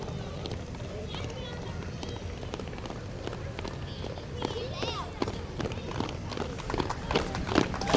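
A group marches and stomps along a street in a parade, their many footfalls a steady rough shuffle with crowd noise and people talking nearby throughout.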